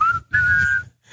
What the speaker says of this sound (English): you got to whistle.